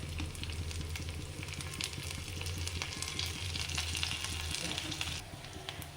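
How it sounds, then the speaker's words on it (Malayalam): Finely chopped garlic with curry leaves frying in hot coconut oil, a continuous crackling sizzle with a low hum beneath, fading slightly near the end. "വെളിച്ചെണ്ണ ചൂടായി വരുമ്പോൾ നമ്മൾ അതിലേക്ക് പൊടി പൊടി എരിഞ്ഞ് വെച്ച വെളുത്തുള്ളി ഇട്ട് കൊടുക്കുക"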